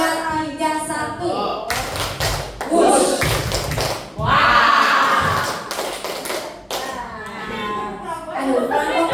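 Group of children and adults clapping in a patterned rhythm during a school teacher training session, bursts of claps in short sequences mixed with children's voices and talk.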